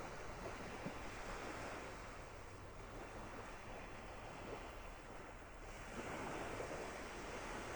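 Ocean waves breaking on Vanderbilt Beach in North Naples, Florida, a steady wash of surf with wind rumbling across the microphone, no voices.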